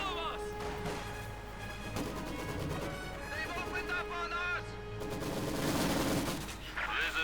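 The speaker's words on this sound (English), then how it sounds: "actually up the ante here with 2 heavy machine guns here for Lollipop" Heavy machine guns fire in a Company of Heroes 2 1v1 match between German OKW and Soviet forces, with rapid repeated bursts and crashes layered over dense in-game battle noise.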